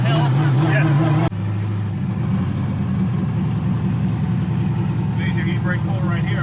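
A Mazda Miata drifts on the Seneca Circuit track with a big e-brake pull, its engine droning loudly from inside the car before a sudden shift into a rougher, rumbling tone, with people talking throughout.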